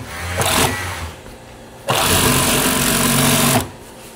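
An industrial sewing machine in a garment sewing shop runs in two bursts, a short whirring run followed by a longer, louder steady hum of stitching, close by with a pause between.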